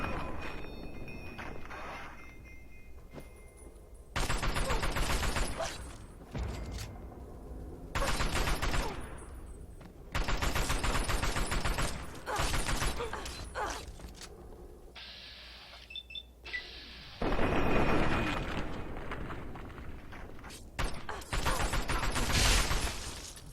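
Gunfire in Fallout 3 on Xbox 360, repeated loud bursts of rapid shots in separate volleys with quiet gaps between, punctuated by beeping interface tones.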